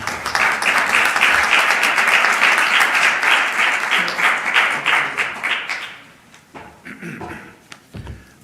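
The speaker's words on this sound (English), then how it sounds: "So would you please, with your very warm applause, welcome to the stage the Honorable Mike Turner." An audience at a CSIS panel event gives warm applause welcoming a congressman to the stage, loud and sustained for about six seconds before tapering into scattered claps.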